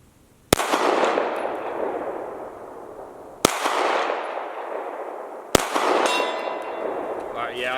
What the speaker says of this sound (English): I shot 3 times because I wanted 4 shots.